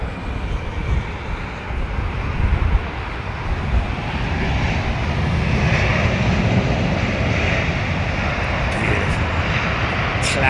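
A twin-engine wide-body jet airliner at London Heathrow Airport, its engine roar a broad, steady rumble that builds over the first seconds and then holds loud and continuous, with faint background murmur.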